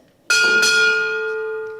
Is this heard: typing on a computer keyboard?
no